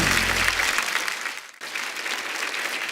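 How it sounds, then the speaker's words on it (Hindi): Studio audience applause on a comedy talk show, a dense, steady wash of clapping that runs the whole stretch with a brief dip midway, moderately loud and without voices over it. "जोरदार तालियां हो जाए"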